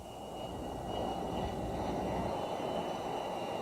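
S-3B Viking naval jet of Sea Control Squadron 31 at Jacksonville air base, a steady loud engine roar with a whining high tone that swells slightly after the first second and holds.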